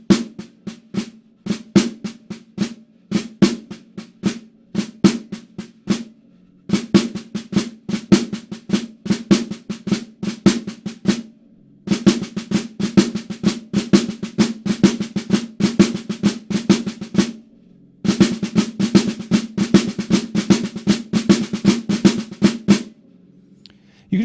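Rudimental flamacues are played on a snare drum with alternating hands, giving sharp close-miked strokes in lilting repeated phrases. The playing comes in four bursts separated by short silences and has no voice over it.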